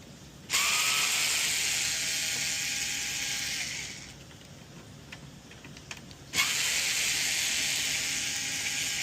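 An electric screwdriver unscrewing the casing of a Breville espresso machine, two sustained high motor whirs of several seconds each with a quiet gap holding small clicks between them.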